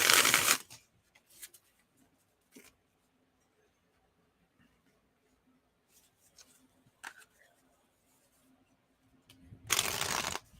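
Tarot cards are shuffled in bursts: a loud riffle at the start, a few short flicks and taps scattered through a quiet stretch, then another loud riffle near the end.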